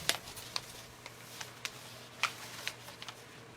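Faint, scattered rustles and crisp flicks of paper being shuffled, a handful of short bursts spread across a quiet background.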